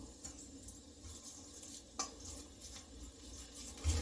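Carbonara pasta stirred with a spoon after crushed chili is added, giving soft scraping and clinks of utensil against the pan, with a light background sizzle and a louder knock near the end.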